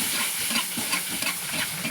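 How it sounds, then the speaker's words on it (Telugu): Scored eggs fry in a pan with a steady close sizzle and crackle, small spits and pops rising through the hiss. "ఇప్పుడు మనము గుడ్లు ఫ్రై చేసుకుందాం."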